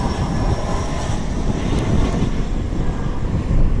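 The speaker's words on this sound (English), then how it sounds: "there's a private 757 overhead" A private Boeing 757 passes overhead near Cleveland Hopkins airport on a cloudy, stormy day, heard as a steady, broad jet roar with wind noise, continuous and fairly loud throughout without speech.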